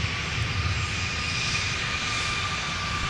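An airliner taking off from runway 17 at Minneapolis–Saint Paul airport, a constant broad jet engine roar with a thin whine above it, heard at a distance with no voices.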